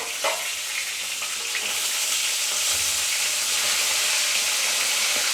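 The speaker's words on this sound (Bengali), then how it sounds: "খুব সাবধানভাবে ভাজতে হবে ঢেকে ঢেকে।" Boal fish frying in oil in a covered pan, a steady loud sizzle and crackle with scattered spits and pops running throughout, no voices.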